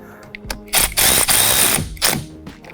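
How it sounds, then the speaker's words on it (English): A ratchet socket wrench tightening the nut on an LED fog light of a 2017–2025 Ford F-150 Raptor, rapid clicking bursts in a few quick strokes, close and loud with short pauses between. "And then we'll take our socket, because you want to make sure that this is very tight."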